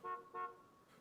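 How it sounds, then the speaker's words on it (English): Two short car horn toots sound in a SimCity school-area street, soft and electronic-sounding, followed by a fainter third beep. "Okay, so that's school traffic."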